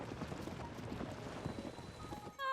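A horse gallops in Zelda: Tears of the Kingdom, with steady rhythmic hoofbeats under wind-like rushing. The hoofbeats are moderately faint, a voice speaks over them, and a brief chiming tone enters at the end.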